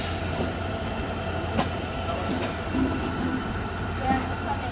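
The Chilahati Express rolls around a sharp curve on the Ishwardi bypass, a steady, close rumble of carriages with occasional wheel clacks and faint squeals repeating along the run.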